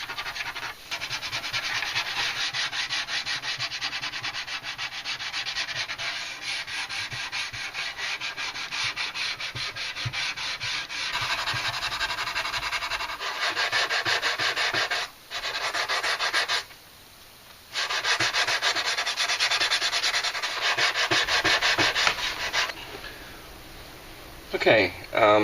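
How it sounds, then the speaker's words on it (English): Putty being sanded on a scale model space shuttle orbiter, a close rhythmic rasping rub repeated in long strokes, pausing briefly twice and trailing off near the end. "I've got the orbiter pretty much puttied up and sanded down"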